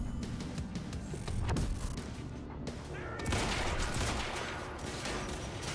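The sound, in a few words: sniper gunfire in Quantum Break video game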